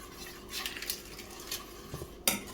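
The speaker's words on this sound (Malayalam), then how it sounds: "കട്ട കെട്ടാതെ ഇളക്കി കൊടുത്തുകൊണ്ടിരിക്കണം." Cornflour mixture for a bread pudding being stirred in a pan as it thickens, quiet scattered scrapes and utensil clinks against the pan with one sharper knock near the end.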